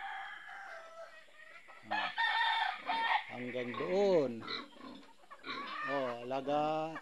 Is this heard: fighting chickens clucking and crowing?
yes